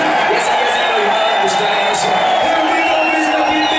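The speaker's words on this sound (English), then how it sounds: "everybody that's in the crowd, can I hear you make some noise now?" A packed club crowd at a live electronic set cheers and whoops in a dense, loud, continuous roar, with a voice calling out over the noise.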